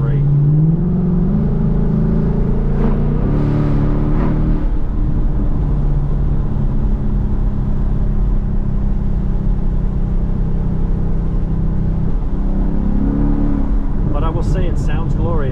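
A Ford Mustang GT engine drives along North Georgia mountain roads with a steady, loud droning rumble and rising revs near the start, with a voice talking over it.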